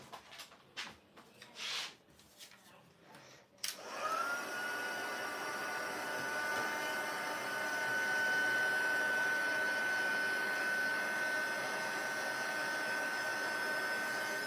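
A heat tool switches on and blows with a steady, loud whooshing drone, warming an embellishment on an Easter bunny easel card. Brief handling noises come first, then the continuous hum holds without pause.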